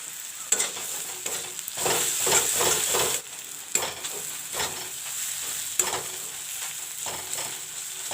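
Banana kofta mixture seasoned with salt and turmeric frying in a pan, a steady close sizzle with scraping stirs and occasional clinks of the spoon against the pan, and no voices.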